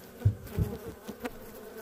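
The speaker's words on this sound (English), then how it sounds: "That's a pile of bees." A large swarm of agitated bees pours over the top of a truck, with a couple of close, loud buzzing bursts standing out from a fainter hum.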